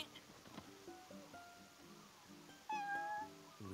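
A cat meows repeatedly in Final Fantasy XV, a clear mewing call standing out over quiet ambient game music, alone without talk.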